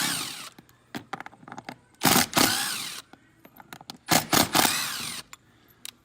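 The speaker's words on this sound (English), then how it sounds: "So I just use my screw gun. There's six screws in this one." A screw gun backs six screws out of casement window hardware in short whirring bursts separated by pauses, close and fairly loud, with light clicks and handling noise between runs.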